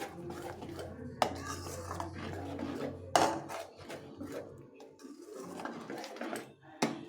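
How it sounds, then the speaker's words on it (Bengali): Sugar is stirred into carrot payesh in a metal pot, with a spoon scraping and clanking against the sides in irregular strokes, several sharp knocks standing out over a quiet kitchen background. "চিনিটা দিয়ে আবার ভালো করে মিশিয়ে নেব।"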